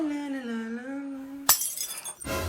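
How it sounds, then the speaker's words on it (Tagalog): A glass object crashes and shatters with a sudden bright burst of breaking glass and scattering fragments, cutting off a sustained tone playing before it. "Unang araw pa lang dito, may nabasag ka na agad?"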